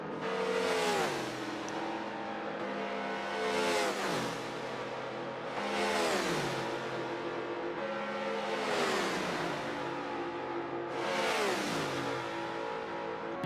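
Race cars in Forza Motorsport 7 at the Indianapolis Grand Prix road course scream past in a steady string of loud engine revs that rise and fall with each upshift, about every two seconds, with no voices.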